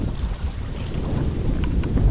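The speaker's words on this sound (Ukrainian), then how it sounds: "Вітер, звісно, вітер розібрався страшний" Strong wind roars and buffets the microphone during a wild carp fishing trip on open water. It is a steady, rough rush that swells toward the end, with no voices.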